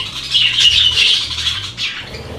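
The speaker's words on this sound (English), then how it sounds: "The singing sound is a sign of a happy and healthy budgie." A budgie warbles and chatters in a continuous bright, scratchy run of chirps with a brief pause near the end, close and fairly loud, over a low background hum.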